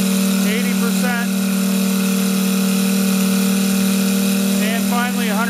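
An RCS150 engine held at 80% throttle on a test run, a loud, steady high-pitched drone with a strong constant tone, and a voice briefly speaking over it.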